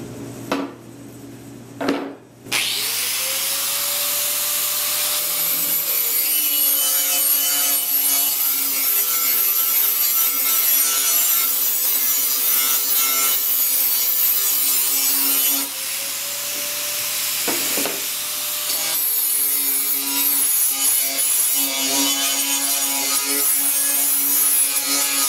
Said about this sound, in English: Now I'm going to weld it on.